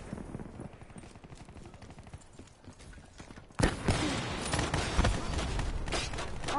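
Rapid gunfire in a Call of Duty match, steady bursts of shots that jump suddenly louder and denser partway through and keep going.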